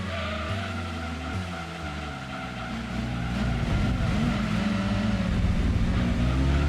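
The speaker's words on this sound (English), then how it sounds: "this car doesn't even remotely sound like a V8 with the muffler" Car engine from the racing game Gran Turismo 2, a muffled V8 during a Seattle City endurance race, droning steadily with shifting harmonic tones, revving and rising slightly louder in the second half.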